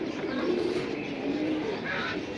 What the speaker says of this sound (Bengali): বিদেশি ব্লাড লাইনের কবুতর তো ভাই